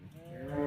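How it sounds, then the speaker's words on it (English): A single short, rising moo comes from a young bovine at close range. It is clear and tonal and grows louder toward the end. "Teeny little moos."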